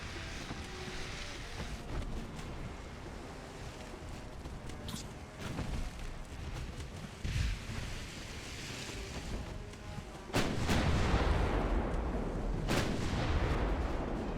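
Battleship main guns fire in the naval warfare game Ultimate Admiral: Dreadnoughts. Booming blasts carry over a sea-and-engine wash, and one heavy salvo late on swells into a sustained rumbling roar. No one speaks.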